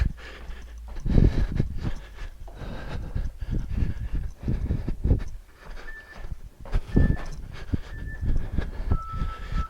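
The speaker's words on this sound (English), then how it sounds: "you can hear I'm starting to breathe heavily" A person breathes heavily during a full-body Tabata workout, with rhythmic, loud panting gasps and exhales close to the microphone, and occasional faint electronic beeps in the background.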